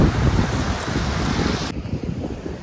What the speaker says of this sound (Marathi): वारा भरपूर आहे आज